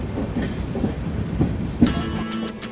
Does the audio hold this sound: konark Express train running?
yes